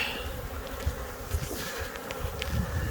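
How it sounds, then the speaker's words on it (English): Bees buzz busily around a hive box nearby, a thin continuous hum with insects drifting close past, at moderate volume and with no voices. "We got quite a bit of bees inside that box."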